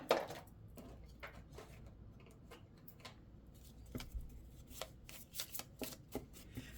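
Rune cards are shuffled by hand for a reading, giving a quiet series of soft riffles and taps in an irregular rhythm. The cards are heard alone at close range.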